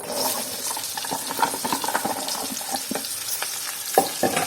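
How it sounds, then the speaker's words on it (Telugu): Okra pieces fry in a pan with turmeric and curry leaves, giving a steady close sizzle broken by scattered crackles and pops, with no talking. "అన్నీ వేగినాయి. ఇప్పుడు ఈ ముక్కలు వేసుకున్నాం."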